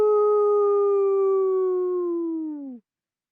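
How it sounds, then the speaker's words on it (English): A single long, clear howl from a wolf, heard as a played recording indoors, holding a steady pitch for nearly three seconds before dipping and cutting off into silence. "it can be kind of alarming to hear a wolf pack howling in your living room"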